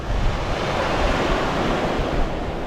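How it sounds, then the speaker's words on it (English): Stormy Baltic Sea surf breaks on a German beach as a loud, continuous wash of waves mixed with gusting wind buffeting the microphone. "Oops, got to watch that sea. It's going to creep up on us"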